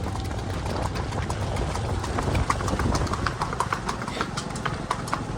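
Horse hooves clip-clop in a steady trotting rhythm during a horse ride at Savarkundla, close and continuous over a busy outdoor background.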